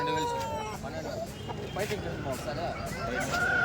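Native-breed chickens and roosters cluck and call continuously at a busy poultry market in Kundarapalli, mixed with nearby voices talking and general crowd bustle.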